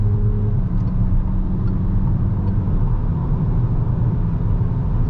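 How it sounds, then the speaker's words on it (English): A 2021 Peugeot 5008 accelerating on a road at night, heard from inside the cabin as a loud, steady low engine and road rumble that continues without a break and with no voices. "So again, the car easily speeds up."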